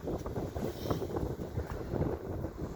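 Wind blowing outdoors, buffeting the microphone with loud, steady rumbling gusts and a continuous rushing roar throughout, with no other sounds.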